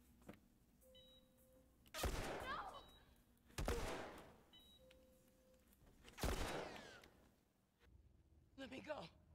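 Gunfire in The Last of Us finale, several loud broadband shots in separate bursts roughly every two seconds over a steady low game ambience, with electronic beeps between them and a faint rattle at the end.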